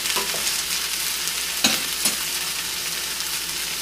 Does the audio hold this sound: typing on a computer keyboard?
no